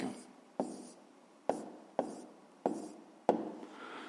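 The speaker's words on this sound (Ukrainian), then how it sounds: "Певно, пишемо відповідь." Answers for a fifth-grade maths exercise written by hand, sharp pen or pencil taps and short strokes on paper, about six distinct close marks at irregular intervals in a quiet room.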